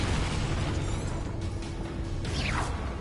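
A blasting Expulso spell explodes in the video game Hogwarts Legacy, a dense, loud, sustained burst of roaring noise with a brief whooshing sweep near the end, amid continuous combat sound.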